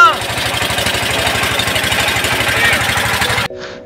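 A boat engine runs at Bholaganj Sada Pathar in Sylhet, a loud, close, fast regular chugging that holds steady for several seconds before cutting off abruptly.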